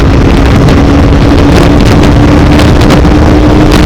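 Bajaj Pulsar 180 motorcycle accelerating hard through its gears during a top speed test, with a loud, steady engine drone heavily buffeted by wind noise throughout.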